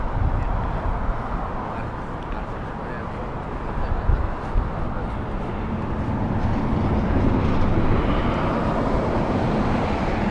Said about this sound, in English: This is a 787-9, a one-year-old aircraft, 2025 this one.